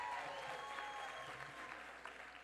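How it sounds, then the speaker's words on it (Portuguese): Audience applause at a ceremony for a new culture minister taking office in Brazil: steady, dense clapping from a large crowd, fairly distant and even throughout. "Minha salva de palmas para vocês."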